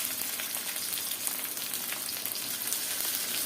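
Green chilies hit hot oil in a pan while bottle gourd is being cooked, producing a steady, dense, close sizzle that crackles evenly throughout without any voices.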